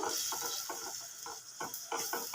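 A spoon stirs Afghani chicken gravy in a pan, making repeated soft scraping strokes in a steady rhythm over a constant background hiss.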